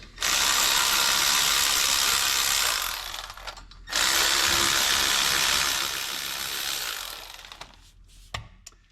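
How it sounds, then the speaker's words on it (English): An electric ratchet spins bolts off a car wheel assembly during brake and wheel-bearing work, buzzing in two long, loud bursts of whirring with a short pause between them. "you can use your little electric ratchet. Makes things a little quicker."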